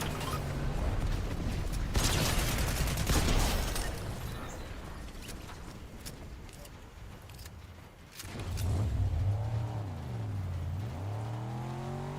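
A car engine in the video game Fortnite drones and revs, holding a steady roar, dipping briefly, then surging again with rising and falling pitch sweeps as the vehicle accelerates, with no talk over it.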